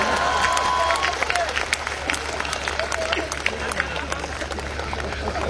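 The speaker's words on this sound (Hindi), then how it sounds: "और अब आपकी तालियां उठेंगी" Audience applause from a crowd at a Hindi poetry recital, a steady wash of many hands clapping across the whole span with a few sharper claps standing out.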